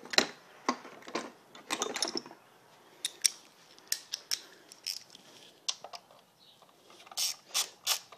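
A ratchet clicks as it loosens 10 mm ignition coil bolts on a 2011 Hyundai Sonata 2.0T turbo engine, in close, crisp bursts of clicking separated by short pauses, with no voices.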